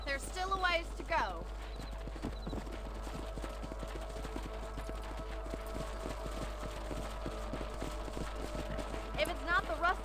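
Horses clip-clopping in the Red Dead Redemption video game, a steady run of hoofbeats over continuous ambience, with a whinny and other game sounds mixed in and a voice speaking at times.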